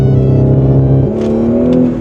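A car with an Integrated Engineering stage 1 ECU tune and stage 2 TCU tune accelerates hard on rolling anti-lag. Its engine drones loudly and steadily from inside the cabin, then shifts pitch partway through, with crackles on top and no talking.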